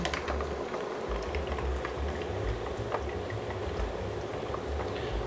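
Chicken frying in peanut oil, following an old 1736 recipe, makes a steady, dense sizzle and bubbling that runs evenly throughout without pause, close and moderately loud.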